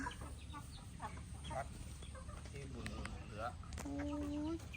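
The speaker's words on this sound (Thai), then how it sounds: "นี่เป็นไก่นะคะ ไก่ที่พ่อเลี้ยงไว้นะคะ" Chickens raised at home on a family farm cluck softly and intermittently at a distance, while someone talks over them.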